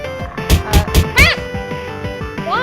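Cartoonish cat meows from the video game Little Kitty Big City, a few short rising calls over game music and sound effects.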